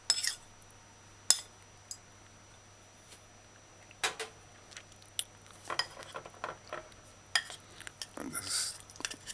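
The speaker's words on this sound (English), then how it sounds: "just kind of stir out the cornstarch and mix it smooth" Cornstarch stirred into a marinating sauce for a shrimp and snow pea dish: scattered light clinks and taps of a utensil against a bowl, quiet and irregular, over a low steady hum.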